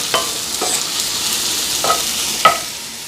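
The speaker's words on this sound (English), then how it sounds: "I'm just going to saute this until the onion is translucent" Onion and garlic sautéing in a pan for an Alfredo sauce, a steady soft sizzle with a few sharp stirring scrapes and clicks of a utensil against the pan, close and without talk.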